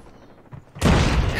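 Gunfire in a Call of Duty ranked match with a KSP-45 setup: a quiet stretch, then an abrupt loud burst of shots and blasts crashing in and continuing to the end.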